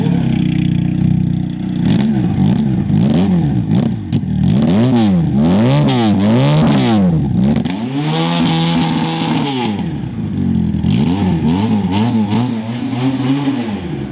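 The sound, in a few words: sports motorcycle engine revving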